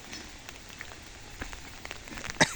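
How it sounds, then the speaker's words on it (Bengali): Light rain patters softly with scattered individual drops ticking nearby, one sharper tap near the end, quiet and without voices. "যে গুড়ি গুড়ি বৃষ্টি নামতেছে চার পাঁচ দিন থাকার কথা"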